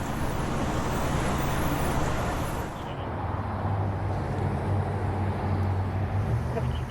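A fire truck drives by, a steady, moderately loud roadway rumble that shifts to a lower, deeper engine drone partway through as the vehicle passes, with no talk.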